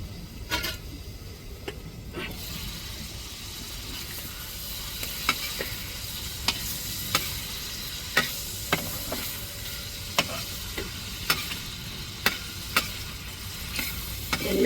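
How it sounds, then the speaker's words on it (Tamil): Squid pieces fry in hot oil with a steady, close sizzle, while sharp clinks and taps from stirring recur every second or so throughout. "இப்படி கொஞ்சம் கொஞ்சம் கணவாயாக போட்டு போட்டு பொரிச்சு எடுப்போம்"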